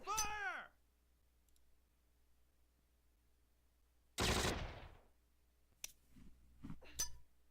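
Gunfire crackles in the wartime strategy game Close Combat: Last Stand Arnhem, a loud dense burst lasting under a second, followed by a few sharp isolated shots, while a voice speaks briefly before the firing.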